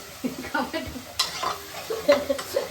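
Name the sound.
stirring and sautéing chicken curry masala in a pan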